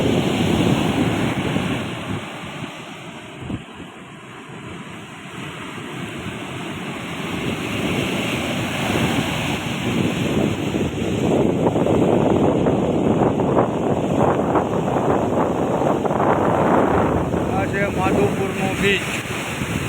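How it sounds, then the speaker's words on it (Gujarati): Stormy sea surf rolls and crashes continuously onto Madhupur beach, with strong wind buffeting the microphone throughout and a voice faintly present. "આ છે માધુપુરનો દરિયો, જે પાછળ તમને દેખાઈ રહ્યો છે."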